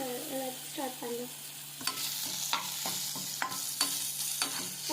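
Ingredients sautéing in a pan, a close, steady sizzle broken by sharp scrapes and taps of a spoon stirring against the metal, with a few brief soft tones early on and no talking.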